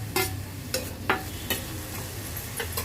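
Tomatoes go into a pan of frying onions for a tondali vegetable dish, giving a soft sizzle broken by several short stirring scrapes at a steady pace, close and fairly quiet.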